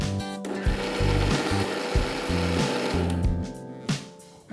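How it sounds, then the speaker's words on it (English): Fermented batter for uttappa is ground into a paste in a grinder, giving a loud, close mechanical drone with a rapid pulsing, chugging rhythm that runs continuously and tapers slightly at the end. "After the batter is fermented, we'll grind it into a paste. Let's grind this."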